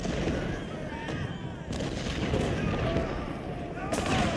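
Napoleon artillery pieces fire in the Ultimate General: Civil War video game, a dense run of deep booms and rumbling cannon blasts layered over one another while someone talks over the battle.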